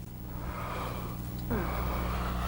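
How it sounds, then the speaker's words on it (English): A person yawns and takes a big, deep breath up close. The airy inhale builds and then swells into a fuller, louder breath, with no speech. "Four natural ways to relax. Yawning."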